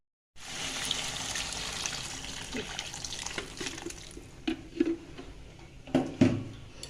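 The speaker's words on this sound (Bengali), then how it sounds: "এবার আমি আগের থেকে গরম জল করে রেখেছি, সেই গরম জলটা দিয়ে দেবো" Hot water is poured into a simmering potato bora curry in a pan, a soft steady splashing pour, quiet and close, with a few sharp clinks and taps toward the end.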